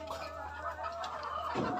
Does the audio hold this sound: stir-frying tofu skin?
no